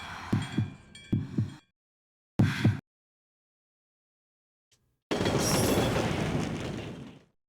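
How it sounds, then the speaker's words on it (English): A goofy toy train in a PS1 game rattles along in short clattering bursts broken by silences, then a longer steady rush of rolling noise that slowly fades. "The little goofy ass toy train."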